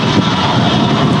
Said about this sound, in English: This Lufthansa in from Frankfurt.